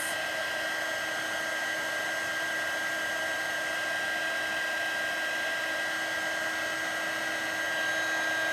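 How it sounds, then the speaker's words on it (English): A heat tool for embossing runs on a handmade Halloween card, giving a loud, steady blower-like whine and rush that holds without a break at close range. "now we're going to use the heat tool. To emboss this."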